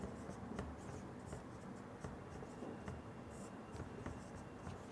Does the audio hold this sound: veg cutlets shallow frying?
no